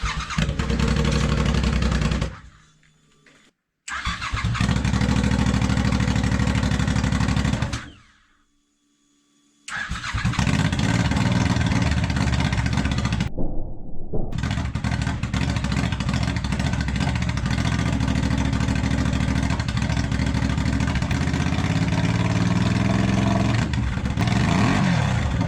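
A reverse trike's engine cranks and catches several times, cutting out between tries, then settles into a loud, close, sustained running with revving and a slight miss at higher revs.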